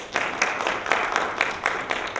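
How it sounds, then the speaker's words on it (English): An audience at a college recap event applauds steadily, dense scattered clapping at moderate distance, filling the short stretch with no voices. "So let's give them all a round of applause."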